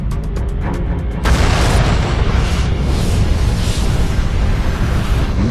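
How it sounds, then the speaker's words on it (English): Deep booming supernova explosion sound effect as a dying star in the Milky Way implodes: a sudden loud roaring blast after a second of rhythmic pulsing, then a sustained rumbling wash that stays heavy to the end. "A dying star in the Milky Way implodes and goes supernova."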